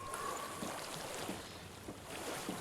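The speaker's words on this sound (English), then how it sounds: "I hear water." Steady rushing water in Hellblade: Senua's Sacrifice, faint and continuous like a stream with airy wash, no talk.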